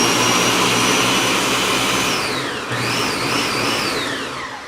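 A Ninja 72 oz blender runs at full power with a loud, steady whine and roar, its pitch sagging and then climbing again partway through as the load shifts, with no talking over it.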